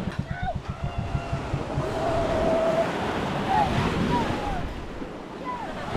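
Ocean waves and surging water around a boat at sea, a steady wash of surf with wind buffeting the microphone, while voices talk and shout over it.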